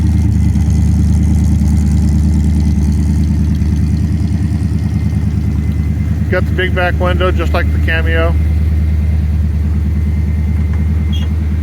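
A truck's small block Chevrolet engine idles steadily with a deep, even rumble close by, while someone talks over it for a couple of seconds midway.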